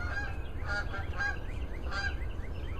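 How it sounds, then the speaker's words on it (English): Several geese honk repeatedly nearby as they come in to land, their calls overlapping in an irregular series over a low rumbling background. "We've got some geese coming in for a landing here"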